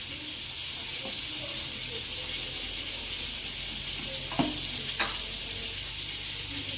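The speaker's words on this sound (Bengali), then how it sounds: "কাকুর মাছটা ভাজা করবো।" Fish sizzles steadily in a pan of hot oil, a constant hiss with a couple of brief sharp pops near the end, close and fairly quiet, with no talking.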